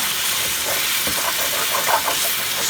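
Base gravy for chicken tikka achari sizzling and caramelising on the bottom of a hot pan: a loud, continuous steamy hiss with faint crackles throughout.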